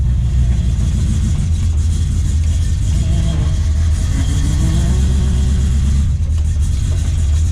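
A 1978 Chevy C30 dually truck with a built-up 454 V8, aggressive cam, Demon carburetor and Edelbrock intake rumbles loudly and close, its deep lopey drone swelling as the engine is revved midway, with no voices.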